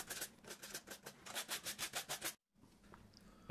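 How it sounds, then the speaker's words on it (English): Fine 1000 grit sandpaper rubbed over black-dyed leather in about a dozen even, rhythmic back-and-forth strokes, soft and close, then a brief silence and faint handling. "With a piece of 1000 grit sandpaper I carefully remove some of the black dye"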